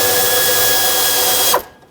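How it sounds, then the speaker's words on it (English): A ratchet with a 10mm socket loosening bolts on an alternator bracket of a 2012-2020 Nissan Pathfinder, giving a loud, steady mechanical clicking rasp that stops abruptly near the end. "I'm gonna stick my ratchet down here with a 10mm socket."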